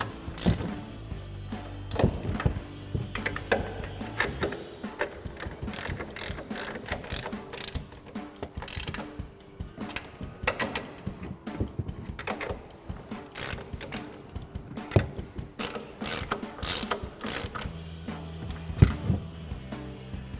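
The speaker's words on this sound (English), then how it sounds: "with an 18mm ratcheting wrench to tighten down our upper strut bolts" An 18mm ratcheting wrench tightening the upper strut bolts on a 2014-2018 Silverado or Sierra 1500 front shock, a close, steady run of fast ratchet clicks with brief pauses between strokes, no talk.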